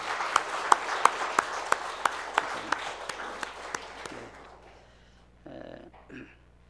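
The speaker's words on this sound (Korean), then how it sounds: "큰 박수로 우리 부모님의 은혜에 감사한 표현을 같이 하도록 하겠습니다" A congregation at a Parents' Sunday church service claps in thanks for the parents, with steady broadband applause and sharp individual claps punctuating it for about four seconds before fading, followed by faint murmurs.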